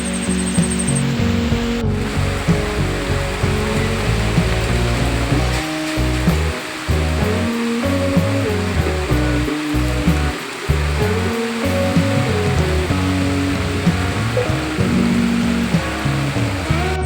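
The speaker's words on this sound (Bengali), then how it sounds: "বাইরের অবস্থা দেখুন বৃষ্টি কাকে বলে দেখুন" Heavy monsoon rain pouring outside, a dense continuous roar of water that stays loud and steady throughout, with no voices.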